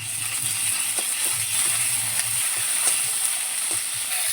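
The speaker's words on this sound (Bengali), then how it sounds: "এবার আমি রসুন পেঁয়াজের সঙ্গে আদা জিরেটা মিশিয়ে নিচ্ছি" Ginger and cumin paste fries with garlic and onion in a pan for masala potol, giving a steady close sizzle with soft scraping stirs throughout.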